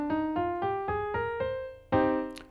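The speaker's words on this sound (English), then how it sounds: "and minor keys sound like this," A brief passage in a minor key: six steady, evenly spaced plucked notes move along a line and give way to a louder held chord that decays at the end, with no talking.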